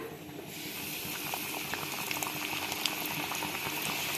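Chicken pieces fry in hot oil with a dense, bubbling crackle that stays even and close throughout, without any voices.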